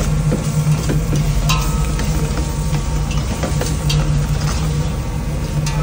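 Beef salpicao sizzles steadily in a pan with paprika, chili flakes and ground pepper, a dense continuous frying hiss close by, broken by scattered clicks and scrapes of stirring.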